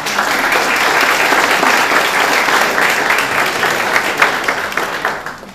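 Loud, dense audience applause fills a theatre during its 100th anniversary celebration, steady clapping that swells slightly and then begins to taper off near the end.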